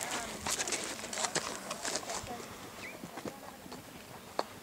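Hooves clip-clop in a quick, uneven rhythm on a hard surface, close by, with a bird chirping faintly in the background.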